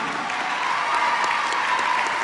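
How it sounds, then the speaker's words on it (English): An audience at the 2012 National Council of La Raza annual conference applauds in a steady, dense wash of clapping, moderately distant and even throughout with no talking. "give yourself an applause"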